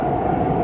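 A CN locomotive with railcars and a caboose rumbles steadily on railway tracks in Montreal, a continuous low mechanical drone with no breaks over the brief moment.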